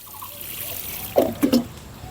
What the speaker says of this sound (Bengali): আরেকটু আপনি জল দিয়ে দিতে পারেন